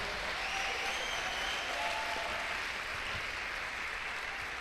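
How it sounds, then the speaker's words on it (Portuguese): A church congregation applauds steadily, a dense wash of clapping at moderate distance that holds evenly for several seconds with a faint murmur of voices underneath. "aplauda mais forte."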